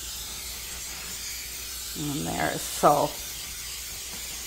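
Cooking spray is sprayed into a 9x13 baking pan, giving two short pressurized hisses in a quiet kitchen, with a person speaking briefly during the spraying.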